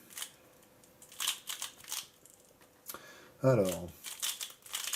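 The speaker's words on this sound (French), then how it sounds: "je vais remélanger mon cube" A Rubik's cube is twisted quickly by hand during a scramble, producing a series of dry plastic clicks and rattling bursts in uneven groups, with one short spoken word in the middle.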